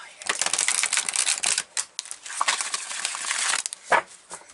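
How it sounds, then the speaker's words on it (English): Soft, rapid riffling and papery shuffling of a deck of tarot cards, steady bursts with brief pauses, close and fairly quiet. "When you shuffle them, they're like so quiet."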